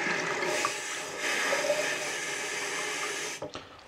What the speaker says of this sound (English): There's some water for the cats to take upstairs.